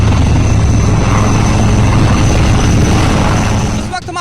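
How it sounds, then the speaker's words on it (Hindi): An Indian Army ALH Rudra helicopter roars loudly and steadily overhead, its rotor and engine noise dense and continuous before dipping slightly at the very end. "आसमान में गरजता रुद्र हेलीकॉप्टर"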